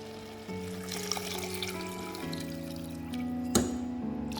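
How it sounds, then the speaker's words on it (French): Water poured into a cooking pan holding a whole fish, a soft, continuous gurgling stream with a rising tone, and a small clink near the end. "je vais venir rajouter de l'eau"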